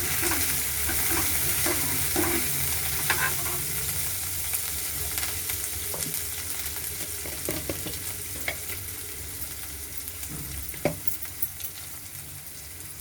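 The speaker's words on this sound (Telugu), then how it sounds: "ఇది ఉల్లిగడ్డ వేగిన తర్వాత అల్లం వెల్లుల్లి పేస్ట్, కొంచెం కరివేపాకు, ఇది కూడా కొద్దిగా వేగనివ్వాలి" Onion with ginger-garlic paste and curry leaves frying in a pan for a rajma curry, a steady close sizzle with occasional stirring scrapes and clicks throughout, no voices.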